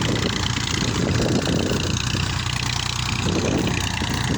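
A Massey Ferguson 241 tractor working a field with a harrow, its engine a steady, loud, close rumbling drone that holds constant throughout, with no speech.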